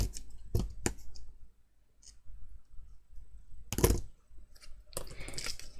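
A few quiet, crisp snips from scissors cutting paper craft pieces, spaced irregularly with soft handling noises between them.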